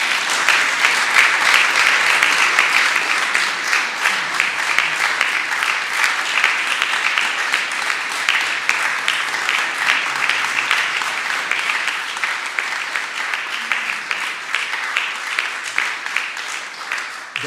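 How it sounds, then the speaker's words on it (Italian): A church gathering breaks into sustained, loud applause for a newly appointed bishop of the Diocese of Vittorio Veneto, dense clapping holding steady throughout and easing slightly toward the end. "Un primo applauso, no?"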